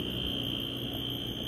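Loud cicadas buzz along a dead-end road, a steady, piercing drone that sounds like an alarm and never breaks, with a busy low rumble underneath.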